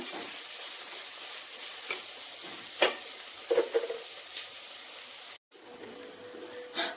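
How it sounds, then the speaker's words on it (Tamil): Onions frying in a pan while being stirred until brown, a continuous soft sizzle with occasional utensil clinks and scrapes, close by, briefly cutting out before resuming. "வெங்காயம் வந்து நல்லா ப்ரௌன் கலர் ஆகிற வரைக்கும் நல்லா மிக்ஸ் பண்ணி விட்டுக்கோங்க"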